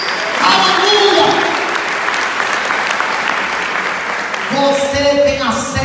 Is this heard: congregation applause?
yes